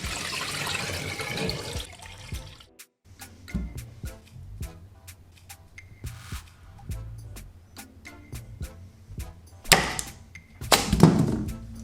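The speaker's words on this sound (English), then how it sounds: "And then wash off the excess starch and drain them completely." Soaked basmati rice washed under running water, a burst of flowing water at the start, then scattered clicks and light clatter from the bowl, with louder splashing near the end.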